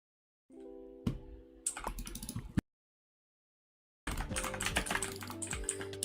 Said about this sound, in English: Keyboard and mouse ASMR.